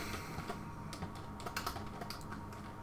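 Typing on a computer keyboard while writing C++ code, a quiet, steady patter of key clicks with irregular spacing, heard alone without any talk.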